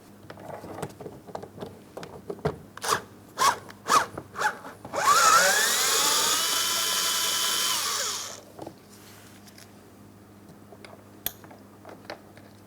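A power tool spins out a 10mm mounting bolt from the door panel of a 2004-2008 Pontiac Grand Prix, a few short ratcheting clicks and taps, then a sustained whirring run of about three seconds, close and loud.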